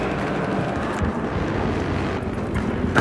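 A helicopter flies in the video game Battlefield Hardline, giving a steady, loud rotor-and-engine drone that continues through the whole moment without a break.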